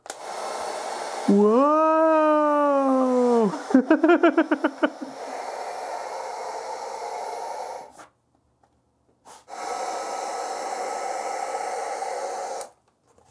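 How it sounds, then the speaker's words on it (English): Heat gun warming prop-build parts to curve them before gluing, a steady close blowing roar running in long stretches that cut off abruptly, with a brief exclaimed voice and a rising whistle-like tone early on. "I'm going to use a heat gun."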